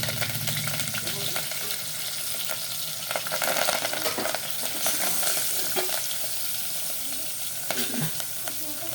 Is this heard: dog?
no